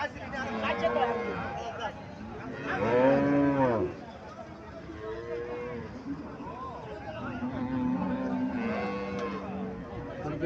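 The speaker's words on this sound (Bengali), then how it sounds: "এখানে একটা গাভী দেখা যাইতেছে।" A Haryana breed dairy cow at a cattle market moos repeatedly, several long, loud calls close by, with people talking and crowd murmur in the background.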